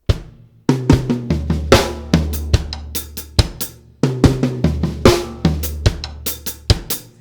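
A drum kit plays a punchy, repeating groove with deep bass drum hits underneath snappy snare and cymbal strikes, close and loud.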